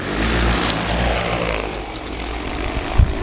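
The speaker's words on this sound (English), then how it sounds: "we'll watch closely as the drone takes off" An AUAV A70 agricultural spreading drone lifts off, its rotors producing a loud, steady whir with a strong low drone that holds throughout, ending in a short louder thump near the end; no talking.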